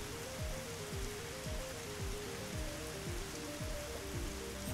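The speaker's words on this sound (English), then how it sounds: "Yeah, it's raining, kind of." Steady video-game rain from Dig or Die patters as a dense, even hiss of drops on surfaces, with faint repeating tonal game sounds beneath, continuous and soft with no one talking.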